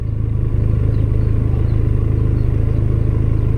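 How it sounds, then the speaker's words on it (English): Benelli TRK 502 motorcycle engine droning steadily at fairly high revs while riding, a loud, even low rumble with a fast regular pulse throughout. "It's revving a little high compared to what I'm used to."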